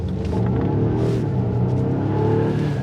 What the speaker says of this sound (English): we pressed power and right away you can hear the engine revving